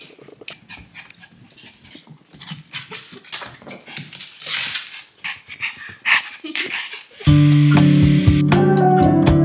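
A visiting dog moves about close by indoors, panting, snuffling and making soft scattered noises, before a loud sustained tonal sound abruptly takes over for the final seconds.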